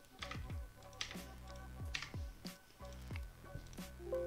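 Typing a DNS server address on a computer keyboard, a series of distinct key clacks in an irregular rhythm, close and fairly quiet, with no voices.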